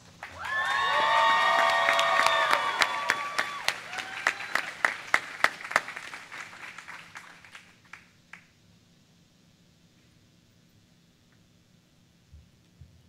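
Audience at a William & Mary opening convocation applauding to welcome a speaker, with whoops and cheers at the start; the clapping builds quickly, then thins to scattered claps and fades into quiet.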